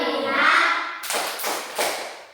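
Children in a classroom doing a rhythmic clapping routine: after a voice calls out, three evenly spaced claps ring out close and clear.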